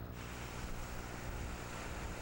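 Waves roll in on Khar Gas, a vast salt lake in Mongolia, a continuous broad wash of surf mixed with wind across the open shore, steady and moderately distant with no voices.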